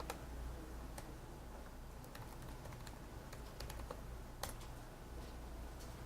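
Quiet, irregular keystrokes tap on a computer keyboard, scattered clicks over a faint steady room hum with no voices.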